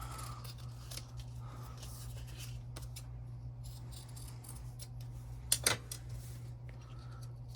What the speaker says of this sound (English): I'm gonna cut this out with 1/8 to 1/4 of an inch from the edge